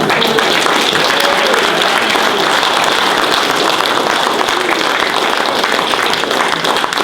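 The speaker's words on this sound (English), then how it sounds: "round of applause." A debate audience at a Libertarian Party presidential debate breaks into a round of applause, thick and continuous clapping that holds at a constant loud level throughout.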